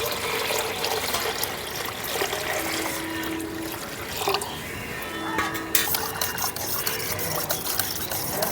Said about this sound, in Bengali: এখন আমি এর মধ্যে দিয়ে দিচ্ছি জল